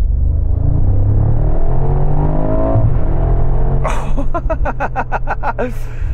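A Mercedes G-Class engine roars and climbs in pitch as it accelerates, loud and close, then a rapid burst of pops and crackles near the end.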